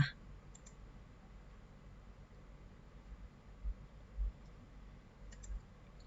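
A computer mouse gives a few faint, isolated clicks, one near the start and a couple near the end, against a quiet room hush.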